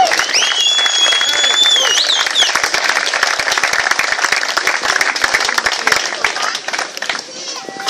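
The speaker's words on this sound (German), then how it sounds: "Und ich glaube, er verdient einen sehr großen Applaus" A crowd at a sports team presentation applauds a volunteer team supervisor with dense, sustained clapping and some cheering, loud throughout the clip and tapering slightly at the end.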